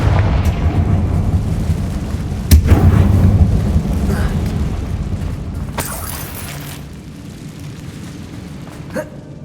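A Confringo blasting spell sets off an explosion in the Hogwarts Legacy video game, with a sharp crack and a loud, rumbling boom that slowly fades, followed by a brighter burst and a soft thud.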